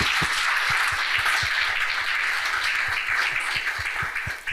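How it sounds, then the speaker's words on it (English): An audience at a green debate event claps for Environment Africa, a steady, dense round of applause with sharp individual claps standing out, fairly loud and continuous, with no voices over it. "We can clap for them."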